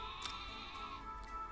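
A Wooloo, a sheep Pokémon in the video game Pokemon Sword & Shield, gives a sustained, wavering bleat that carries clearly over faint background game music, with no talk.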